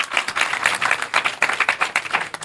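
A political rally crowd claps loudly and densely for Rahul Gandhi, a steady wash of applause filling the whole stretch without any voice on top.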